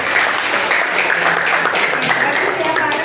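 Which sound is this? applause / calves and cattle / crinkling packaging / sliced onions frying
applause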